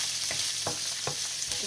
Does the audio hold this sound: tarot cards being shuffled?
no